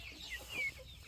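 Purebred chickens on a large poultry farm let out a couple of short, high clucks at moderate distance over low background noise.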